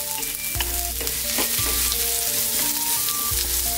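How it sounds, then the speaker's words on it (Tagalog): Squash pieces are stirred into sautéed onion, ginger and garlic in a hot pan, with a loud, close, continuous sizzle and occasional knocks of the spoon. "Next step natin, ang kalabasa. Haluin lang natin."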